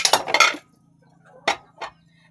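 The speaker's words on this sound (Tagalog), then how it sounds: "Maghugas muna tayo ng pinggan" Dishes clink and clatter in a quick burst, then two sharper isolated clinks follow after a pause, close by with a low steady hum underneath.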